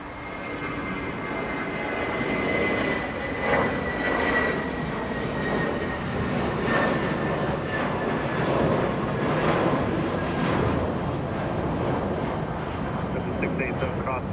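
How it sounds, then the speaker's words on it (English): A passenger aircraft lifts off from a runway at Los Angeles International Airport, its engine roar sustained and broad throughout, with faint radio chatter mixed in. "A company aircraft lifting off."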